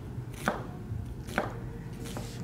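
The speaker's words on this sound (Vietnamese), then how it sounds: "Củ hành tây thì mình cũng sắc mỏng mỏng ra luôn nha quý vị." A knife thinly slicing an onion on a cutting board, three distinct crisp chops spaced about a second apart, close and fairly quiet, while preparing beef hot pot with fermented rice.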